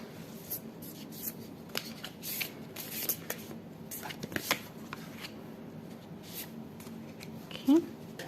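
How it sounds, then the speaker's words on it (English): Oracle cards being shuffled for a pick-a-card tarot reading: close, crisp riffles and soft slides in irregular bursts, with quiet rustling between them. "now we're going to choose your oracle cards for your reading"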